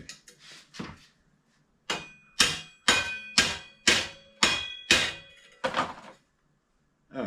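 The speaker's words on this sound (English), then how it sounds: "we're just kind of repounding the rivet a little bit." Several sharp metallic hammer taps on a loose rivet holding the fender stay of a 1975 Schwinn Suburban bicycle: a couple of softer knocks, then seven crisp evenly spaced blows, close and fairly quiet.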